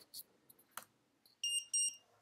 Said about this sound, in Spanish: cada vez que detecta la superficie negra hace pip, pip, ese pitido